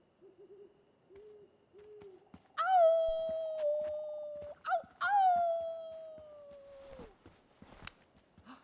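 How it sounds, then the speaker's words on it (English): Wolf howls in the video game Life Is Strange 2: two long, pitched howls that swell, hold and fall away, following a few soft hoot-like calls and ending in near silence. "I hear a wolf."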